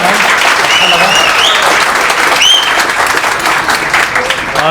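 An audience claps loudly, with dense and continuous applause throughout, while voices talk over the clapping.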